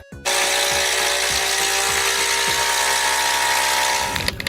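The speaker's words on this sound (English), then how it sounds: "Electric drill." A power tool electric drill whirs continuously at steady speed for several seconds, starting abruptly and running alone with a faint rhythmic low ticking before winding down at the end.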